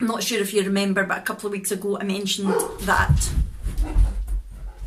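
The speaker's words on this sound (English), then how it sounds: "sorry about the dogs barking" Dogs barking and yipping in the background while someone talks over them, the barks rising in the second half of the clip.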